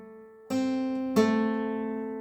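An acoustic guitar is picked Carter scratch style with a thumb pick, sounding two bright plucked strums that ring out and sustain alone, close and clear.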